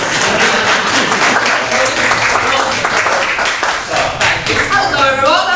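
An audience at a live comedy show claps in a dense, loud burst of applause that thins slightly near the end as a voice starts to talk over it.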